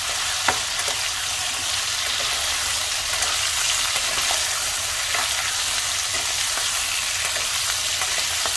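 Potatoes seasoned with salt sizzle steadily in a pan of hot oil for Sindhi green garlic aloo, with a continuous hiss and occasional soft scraping clicks as they are stirred and mixed.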